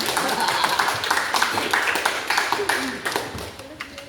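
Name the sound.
applause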